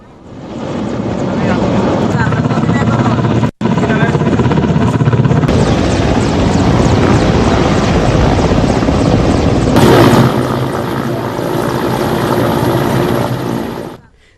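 Air force rescue helicopters at a disaster site, a loud continuous rotor and engine roar that stays close and steady throughout, with a voice talking over it.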